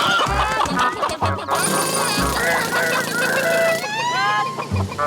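Cartoon chickens cluck and squawk in a rapid, busy jumble, loud and close, mixed with music and sound effects.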